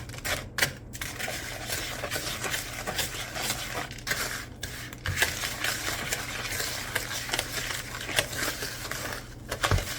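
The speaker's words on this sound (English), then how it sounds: "And we will be creaming the butter and the sugar together." Butter and sugar being creamed together in a bowl with a spoon for a Christmas fruit cake, giving a steady close scraping and stirring texture with occasional clinks against the bowl, no voices.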